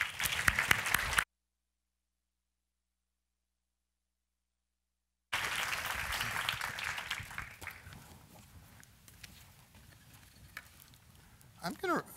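Applause from a lecture-hall audience greeting a guest speaker, a dense brief clapping burst, cut off, then returning as a fading patter of scattered claps.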